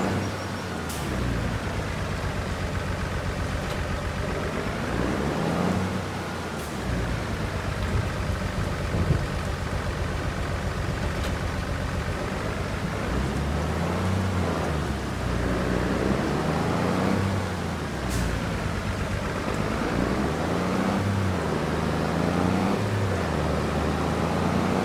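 Steady rain falls in Farming Simulator 25 as a constant broadband hiss lasting the whole stretch, mixed with a low vehicle engine drone and occasional faint clicks, without speech.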